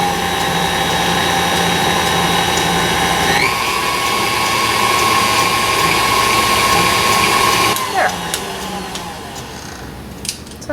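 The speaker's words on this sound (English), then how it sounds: "but you can use a hand mixer too." An electric hand mixer whirs loudly and steadily at close range while blending shower steamer ingredients, its pitch shifting as the load changes before it winds down near the end.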